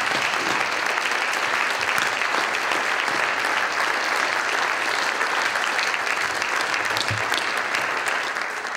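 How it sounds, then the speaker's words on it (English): Sustained, dense applause from a standing audience at an academic festschrift honouring surgeons and ethicists, steady and loud for the full stretch with no break or voices on top. "could I ask you all just to stand up and take some applause?"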